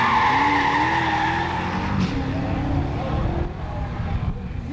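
A race car spinning out, its tires skidding and squealing in a long, loud, wavering screech over the engine's drone, heard close and fading slightly toward the end.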